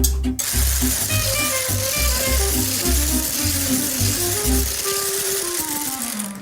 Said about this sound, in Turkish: Sonra bunu el blender ile çırpıyorum.